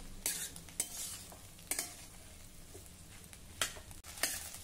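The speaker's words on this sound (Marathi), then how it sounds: "दोन मिनिटांसाठी पुन्हा एक वेळा हे परतून घेऊया।" Vegetables with fresh coriander being stir-fried in a pan, a soft steady sizzle under a few sharp scrapes and clinks of the spatula against the pan, close and fairly quiet, with no talk.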